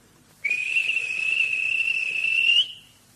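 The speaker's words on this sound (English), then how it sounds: "At last, the guard blew his whistle." A train guard sounds a whistle in a Thomas Trainz game scene: one long, shrill, steady blast lasting a couple of seconds, loud and close, starting abruptly and cutting off cleanly against quiet background.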